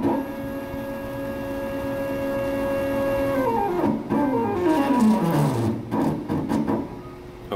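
A G0602 mill's Z axis jogs upward under motor drive, a steady whine whose pitch climbs and then sweeps down as the motion changes speed, ending with a few clunks.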